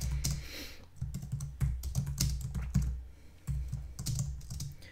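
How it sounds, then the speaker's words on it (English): Rapid clattering keystrokes on a computer keyboard while entering statistical code, close and steady in uneven bursts with brief pauses, no talking. "I'm just going to type this out."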